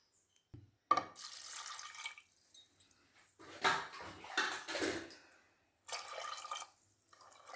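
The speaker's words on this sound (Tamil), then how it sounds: "நல்லா முழுகிற அளவுக்கு தண்ணி ஊற்றணும்." Water poured into a pot of soaked kidney beans for rajma masala, heard as a few short splashing pours with gaps between them, moderately close and with no talking.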